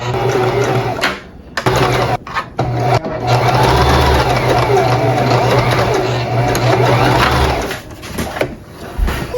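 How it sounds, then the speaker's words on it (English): A sewing machine stitches fabric for wrap pants in a close, steady whir with a few short pauses, while a person talks over it at points. "Go ahead and sew all the way."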